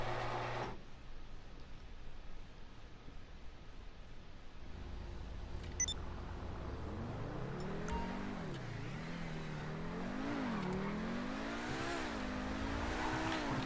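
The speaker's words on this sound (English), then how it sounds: "This is my take on the Torero XO. Let's take it out for a spin." Torero XO supercar in GTA 5 Online pulling away, engine note climbing and falling through repeated revs and gear changes, sustained and fairly loud, with a brief tire squeal and no talking.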